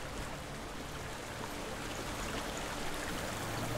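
A waterfall in the video game Hellblade: Senua's Sacrifice makes a continuous broadband rush of falling water, fairly quiet and unchanging throughout.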